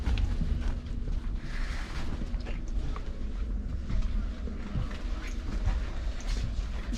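Interior of a moving Russian passenger train, a steady low rumble and rattle with broadband rushing noise throughout, fairly loud and continuous with no speech.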